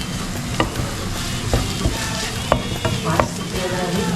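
Dried bombil (Bombay duck) sautéing in a pan for chutney, a steady dense sizzle with a spatula stirring and scraping in irregular sharp clicks, close and fairly loud with no talking.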